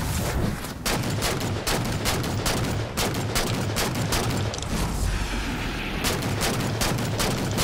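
Rapid gunfire in a multiplayer shooter game on a new map, dense bursts of sharp shots and booms repeating almost continuously, loud and close throughout with no speech over them.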